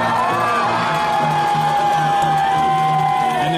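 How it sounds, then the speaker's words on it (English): Crowd cheering wildly at the 2015 UIAA ice climbing World Cup final in Bozeman during heavy snowfall: a loud, sustained roar of voices and whoops with a high whistle-like tone running through, steady for the whole stretch. "And the crowd going wild."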